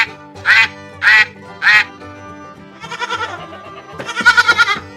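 A farm goat bleats twice in wavering, trembling calls, near and loud, after three sharp duck quacks open the sequence.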